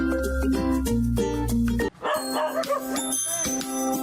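A crowd of aspin (native mixed-breed) dogs barking and yipping together, sharp overlapping barks with a whimper or two, close and loud, with backing music running underneath.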